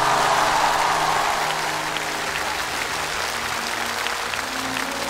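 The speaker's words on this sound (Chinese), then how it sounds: "掌声鼓励" Studio audience applauding on a televised Chinese brain-competition show, steady dense clapping that starts full and eases slightly but continues to the end, with no talk over it.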